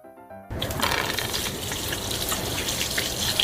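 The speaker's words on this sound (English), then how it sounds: "Let's see how long it takes to empty the bottle." Water gushes steadily out of a bottle through a straw, starting abruptly after a brief quiet moment and continuing as a loud, continuous rushing pour with no talk.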